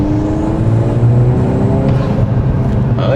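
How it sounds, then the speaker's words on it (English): Volkswagen MK8 Golf R with a tuned engine map accelerating, a steady close drone of engine and intake whir with rising tones under the cabin noise. "We'll hear some intake noises."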